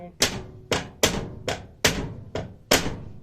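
Sharp hammer taps on a flower stand during assembly, six distinct knocks spaced roughly half a second apart, close and fairly loud with no talk.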